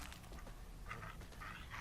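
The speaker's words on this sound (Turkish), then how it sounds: "Köpek geliyor." A dog approaches in The Walking Dead: The Final Season video game, giving short whimpering barks over a steady, noisy game background.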